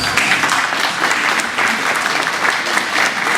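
A crowd at a county FFA alumni livestock show applauds a young exhibitor, producing a dense, loud, continuous wash of clapping with no gaps.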